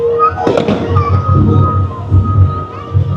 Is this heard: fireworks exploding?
yes